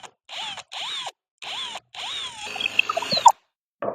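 A power drill with a 1.5 Forstner bit whirs in four short bursts with brief pauses, then bites into wood with a grinding, rattling chatter before stopping.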